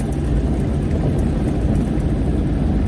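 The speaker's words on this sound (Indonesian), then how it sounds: "Otomatis jika sudah mencapai di RPM 3000, itu mesin akan mengaung teman-teman." A car engine under acceleration at around 3000 RPM and above produces a loud, close, steady droning hum with a strong low-pitched body and no breaks.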